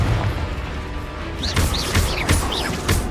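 Confringo blasting spells explode in the video game Hogwarts Legacy, producing a rapid series of heavy booming blasts and crashes, roughly one every half second, over a dense rumbling battle din.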